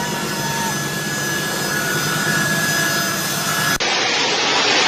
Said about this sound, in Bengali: যেখানে প্লেন আসছে, সামরিক প্লেন, সামরিক বিমান